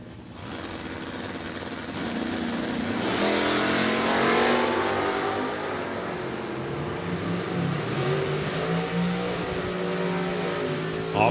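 Door-slammer drag race cars launch hard down a drag strip, engines roaring loud and sustained as they accelerate away, with a steady wall of exhaust noise and no talk over it.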